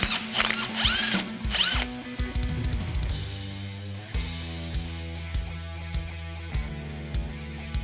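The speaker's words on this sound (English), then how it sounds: "I'll remove the pinion nut and slide the pinion out of the way." Power tool spinning off the pinion nut on a Chevy Tahoe rear end during a differential rebuild, with whining, shifting motor pitch and rattling metallic chatter, repeated in several pulses close to the microphone.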